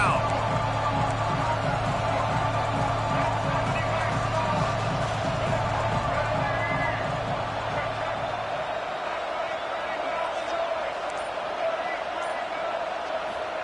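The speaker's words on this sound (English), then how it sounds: "The crowd electric, trying to help Tech on this third down." A stadium crowd roars with a dense, continuous wall of noise during a Texas Tech vs Alabama college football game on a third down, with rhythmic stomping early on under play-by-play commentary.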